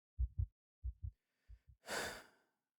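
Close, heavy breathing comes in paired short pulses, three pairs in a row, then ends in one long, breathy exhale like a sigh as someone calms down.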